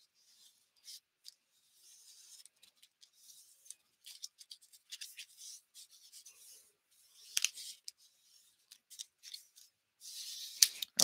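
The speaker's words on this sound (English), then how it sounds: "So I'm just going to burnish this tape down." Tape being burnished down onto a handmade mini book paper craft, heard as soft, close scratchy rubbing strokes in short irregular bursts with quiet pauses between, no talking.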